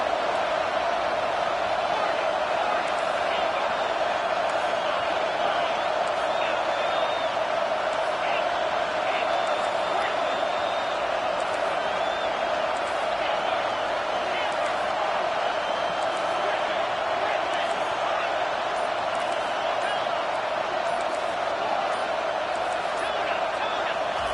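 Stadium crowd roars steadily through a fourth-down play at an American football game in a sports video game, a constant dense wall of noise beneath ongoing play-by-play commentary.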